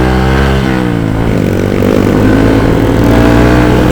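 A Honda motorcycle engine fitted to a non-factory CRF build revs loudly up close, its pitch dipping and climbing in sustained pulls with a rough, throaty mid-range tone throughout.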